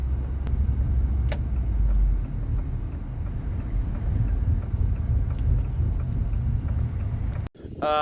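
A car drives steadily toward town, a continuous low road rumble and engine drone filling the cabin, with faint rattles and a few light clicks overhead, ending in an abrupt cut.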